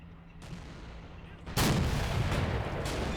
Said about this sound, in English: I think we're starting to fire up with mortars now.